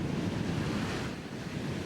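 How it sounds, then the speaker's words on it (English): Ocean surf breaks on an oceanfront shore ahead of Hurricane Isabel while strong wind buffets the microphone, a loud, continuous roar of waves and gusts. "As the waves get bigger and the winds become stronger"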